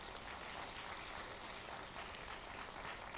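A church congregation at a revival meeting applauds, a dense, even patter of many hands clapping steadily without pause, fairly distant and soft.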